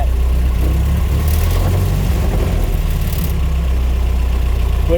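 A 1927 Chevrolet Capitol AA delivery truck engine runs steadily up close, a loud, continuous low rumble with a slight rise in revs midway and no talking.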